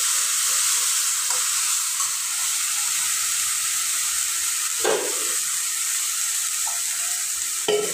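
Tomato paste with ground masala of onion and coconut sizzles in a hot tempering for chickpea curry, a loud, steady hissing fry with a few spoon knocks and faint clinks, close and unbroken, no voices.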